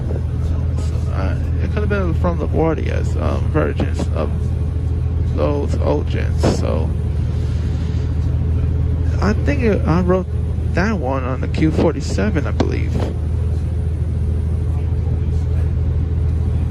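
Inside a 2006-2007 Orion 7 hybrid MTA bus while riding, with a steady engine rumble underneath. Someone talks over it for much of the time.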